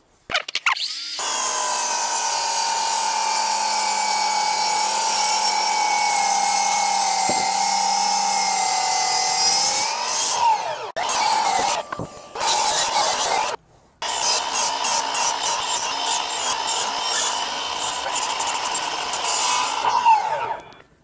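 A Milwaukee M18 FMS254-0 18V battery-powered crosscut saw spins up and cuts through wood with a loud, sustained high-pitched whine. The whine falters briefly, stops, then resumes for a second cut before winding down.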